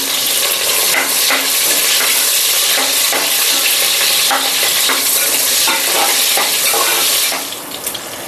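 Green chillies and onion with bay leaf frying in a pan for mushroom biryani, a steady loud sizzle with scraping stirs throughout, easing slightly near the end.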